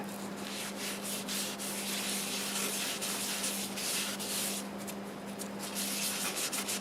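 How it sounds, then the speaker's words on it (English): Quiet, continuous rubbing and brushing strokes applying shellac-based sanding sealer to turned maple, repeated and uneven, with a steady low hum underneath. "here goes the first coat of sanding sealer, and this is shellac based."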